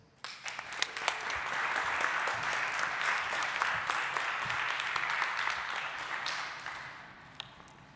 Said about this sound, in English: could I have a huge round of applause for Laura Joy Pieters?